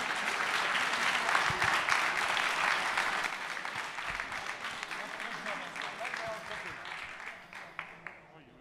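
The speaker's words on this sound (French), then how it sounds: "Je vous demande d'applaudir le numéro 7, Johan Tousgar." Stadium crowd at an ESTAC Troyes football title celebration applauding a player during the team presentation: a dense, sustained wash of clapping that stays loud for several seconds, then gradually thins and fades, with a few isolated claps near the end.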